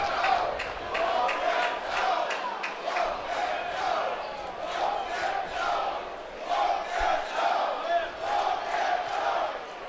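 Baseball crowd at an Alabama–Georgia game cheering and chanting to urge a batter on during a 3-1 count, a steady roar with rhythmic swells of voices throughout.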